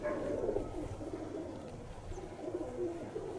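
Pigeons in Kozani coo softly in low, throaty repeated calls, several birds murmuring together at a moderate distance, with faint wind in the background.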